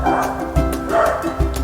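Dog barks in a few short bow-wow bursts close by, with whimpery yips between them and a steady low background, no talk over them.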